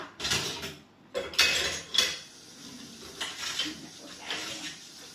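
Dishes, pots and cutlery clatter and clink in a kitchen sink as they are washed, with sharp close knocks of crockery over a steady wash of running water, a few louder bangs standing out, no talk.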